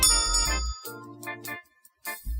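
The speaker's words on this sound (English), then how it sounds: "A bell." A bell in the adventure game The Journey Down rings in a couple of bright, tonal chimes with lingering overtones, separated by short silent gaps, clear and close.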